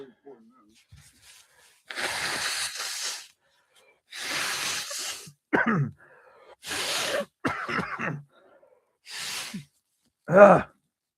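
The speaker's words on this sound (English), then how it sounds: "Pardon me while I blow my nose here" Several loud, breathy nasal blasts come in separate bursts with short pauses between them, close to the listener, ending in a sharper honk.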